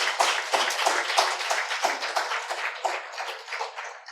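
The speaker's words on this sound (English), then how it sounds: "A round of applause to our Bharat Desh and our masters in India." An audience at a workshop applauds, steady dense clapping that begins loud and close and slowly thins and fades over a few seconds, with no talking over it.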